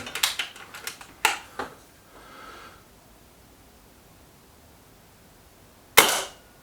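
Kral Pro 500 air rifle firing at a target: a sharp, close crack near the end, preceded by a cluster of small mechanical clicks and ticks, with quiet in between.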